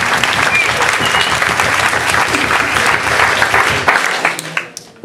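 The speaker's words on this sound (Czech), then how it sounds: "Máme ještě potlesk číslo dvě, to jako fakt vydařený vtip." A live audience at a match-opening introduction bursts into a second round of loud, dense applause that holds steady before tapering off into a few scattered claps at the end.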